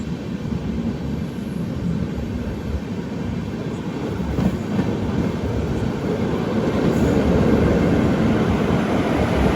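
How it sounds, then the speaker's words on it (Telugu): A passenger train on the Visakhapatnam to Prayagraj route rumbles past steadily, its low roar swelling slightly toward the end, with no voices over it. "అటు సైడ్ నుంచి ట్రైన్ వస్తుంది."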